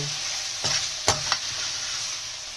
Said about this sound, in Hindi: अब इन बॉईल की हुई सब्जियों को मसालों में अच्छे से मिक्स करेंगे